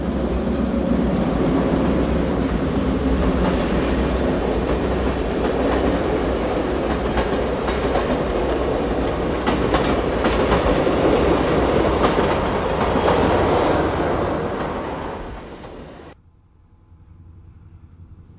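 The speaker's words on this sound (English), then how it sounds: "we catch the eastbound Broadway Limited, train number 28" An eastbound Pennsylvania Railroad Broadway Limited passenger train, slowed for a speed restriction, rumbles past close by with steady rolling noise and wheel clatter for about fifteen seconds before fading abruptly to quiet.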